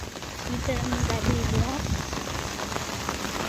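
Steady, heavy rain pours down on surfaces during the Ganesh Chaturthi festival, a continuous close hiss of drops with a faint voice briefly audible underneath.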